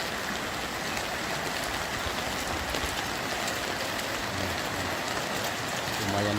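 Heavy rain falls during flooding in Lahat as a dense, unbroken hiss that stays loud and even from start to finish, with no talking.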